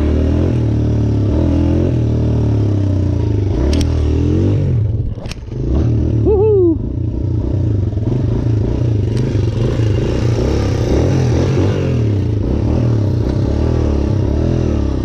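A dirt bike engine runs loud and close on a beach, with a steady harmonic drone, a few revs rising and falling, and brief clatter; a voice briefly cries out.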